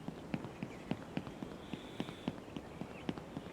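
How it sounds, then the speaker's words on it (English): Character footsteps in a video game built with Unreal's Gameplay Ability System, a quiet, evenly spaced run of soft taps at a brisk running pace over low background noise. "I haven't fixed the footstep sounds."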